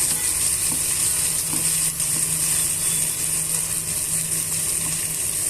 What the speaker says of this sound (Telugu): వన్ టేబుల్ స్పూన్ అల్లం వెల్లుల్లి పేస్ట్ని యాడ్ చేసుకొని ఇవన్నీ బాగా మిక్స్ చేసుకొని పచ్చివాసన పోయేంత వరకు వేయించుకోవాలి